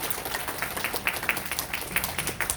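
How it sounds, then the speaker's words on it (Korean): A meeting audience gives brief, scattered applause, a thin patter of separate claps from a modest crowd that wavers in intensity, with no talking. "박수 한번 쳐주세요."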